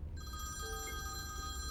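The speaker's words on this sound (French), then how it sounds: "Vous entendez tous les quatre une sonnerie de téléphone." A telephone bell rings steadily on its own, clear and sustained, used as a sound effect during a French tabletop role-playing game session; the ring suggests an old payphone.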